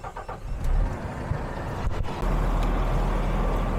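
A DAF XF truck engine idles steadily while being warmed to operating temperature before fuel system diagnostics, a loud continuous low rumble that grows heavier partway through with no talk.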